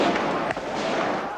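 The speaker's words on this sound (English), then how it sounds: "gunfire from the People's Army." Dense, sustained crackling gunfire from troops in Tiananmen Square, 1989, fills the whole stretch with rapid overlapping cracks and one sharper report midway, loud and unbroken.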